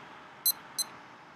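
An Adidas Seoul digital watch timer alarm gives two short, high electronic beeps about a third of a second apart, close and clear over a faint background hiss.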